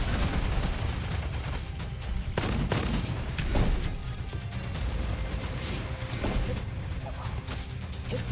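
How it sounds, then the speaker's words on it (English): Rapid, continuous gunfire in the shooter game Gunfire Reborn, dense volleys of shots and impacts close and loud, with occasional sharper cracks and a brief voice underneath. "For those wondering why I keep shooting, like, I never run out of ammo."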